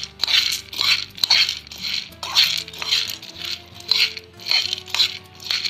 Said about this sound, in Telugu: దాంట్లో మనం కొంచెం పుట్నాల పప్పు వేడి చేసుకుందామండి